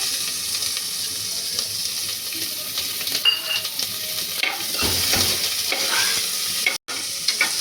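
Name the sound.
onions frying in oil for chicken biryani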